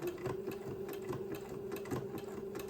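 A sewing machine runs steadily, stitching fabric folded beside an entredeaux ladder; a continuous even whir with a faint rhythmic needle patter, close and alone.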